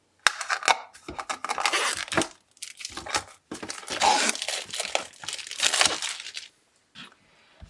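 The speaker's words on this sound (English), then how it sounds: "All right, let me cut it open." Sealed packaging around a Cricut Maker cutting machine is cut and torn open, with bursts of loud crinkling plastic and ripping separated by short pauses, close to the listener.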